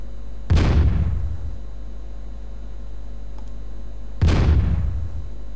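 Artillery fire in the strategy game Svea Rike II booms twice, about four seconds apart, each a loud deep blast with a long rumbling decay over a steady low hum.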